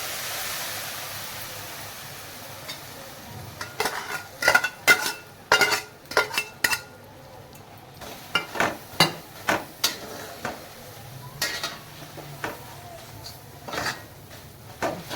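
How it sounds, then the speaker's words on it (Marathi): Jaggery is stirred continuously in a pan until it melts, with a utensil scraping and clinking against the metal in a run of sharp strokes. Quieter stretches come between the bursts. "आपल्याला गुळाला असं वितळेपर्यंत कंटिन्यू हलवत राहायचं आहे, नाहीतर गूळ करपण्याची शक्यता असते."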